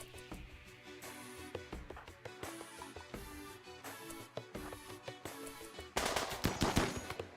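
Video game gunfire, rapid bursts of machine-gun shots in uneven rhythm, ending in a louder, denser volley near the close, all up front with no talking.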